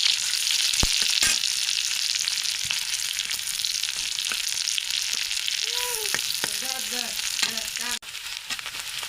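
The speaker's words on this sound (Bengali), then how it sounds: "শুটকি মাছটা, চেপা শুটকিটাও ভাজা হয়ে গেছে" Chepa shutki, fermented dried fish, sizzles steadily in hot oil with fried onions, a loud continuous frying hiss punctuated by the scrape and clink of stirring.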